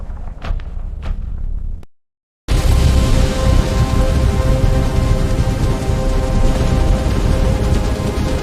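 Heavy rain on a stormy night pours down in a dense, loud, continuous hiss after a brief cut to silence, preceded by a few sharp knocks and a softer patter of rain.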